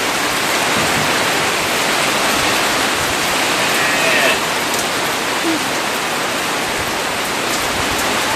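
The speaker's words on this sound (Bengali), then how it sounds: "হঠাৎ করে বৃষ্টি শুরু হয়ে গেল" A sudden heavy rain shower after bright sunshine: a dense, steady hiss of rainfall close by, loud and unbroken throughout, with a voice faintly present beneath it.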